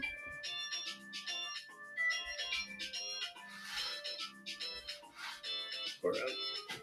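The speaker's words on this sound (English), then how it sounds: "My phone's ringing." A melodic electronic phone ringtone repeats its short chiming phrase over and over, moderately loud, with some background noise mixed in.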